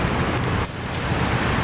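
Steady broadband wash of sea waves, loud and continuous with no distinct breaks, a constant surf-like roar throughout.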